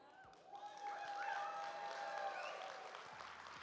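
Audience applause at a political party's closing session, a moderate, fairly distant wave of clapping that swells and then tapers off, with some crowd voices mixed in underneath.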